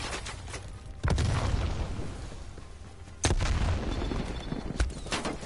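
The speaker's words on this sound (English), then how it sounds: "Time to throw a nade" Two heavy grenade blasts in Call of Duty Black Ops Cold War, the first at about one second and the second about two seconds later, each a loud booming burst that decays into a rumbling tail, with scattered gunfire pops between.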